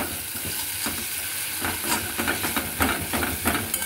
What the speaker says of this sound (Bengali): এবার ভালো করে এটাকে মেশাতে হবে।